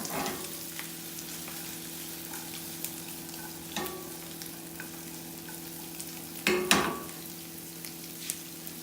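Butter and a rib eye steak sizzle and fry steadily in a pan, a soft continuous crackle with a few sharper spatters and clinks of a utensil, no talking.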